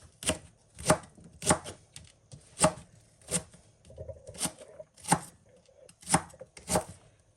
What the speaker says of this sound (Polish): Ten jest cieńszy, więc kroję na 2 i w kawałeczki, tak?